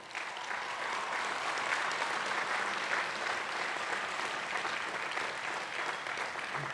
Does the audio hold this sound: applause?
yes